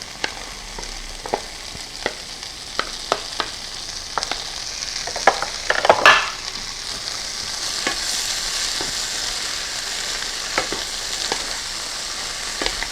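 Rehydrated freeze-dried green beans fry in a small, crowded pan, a close steady sizzle punctuated by sharp crackles and pops, with a louder burst of spattering midway, and no talking.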